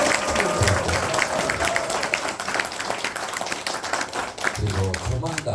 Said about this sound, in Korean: 박수 한번 이렇게.